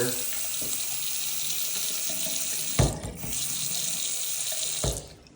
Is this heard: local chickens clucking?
no